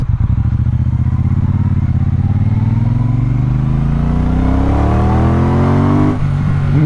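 A Triumph Speedmaster motorcycle engine pulls hard through a long, loud, rising rev in one gear, then drops sharply near the end as it shifts up, heard close and alone.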